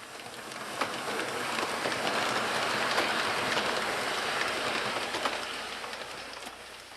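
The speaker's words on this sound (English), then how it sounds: "There is nothing like the sound of steam, or the smoke coming out of the smokestack, or the sound of the clicky-clack of the wheels." An O gauge model train runs on its track, giving a steady broadband rumble with faint rhythmic clicks of the wheels over the rail joints, continuous and fairly close.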